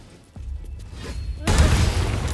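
A Booming Blade spell strikes in Baldur's Gate III, a short thud and whoosh followed by a sudden loud burst of crackling, booming energy that sustains to the end.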